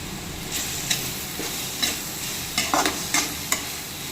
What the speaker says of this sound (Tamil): இப்போ இது கூட எடுத்து வச்சிருக்கிற தக்காளியை ஆட் பண்ணி நல்லா கிளறிக்கலாம்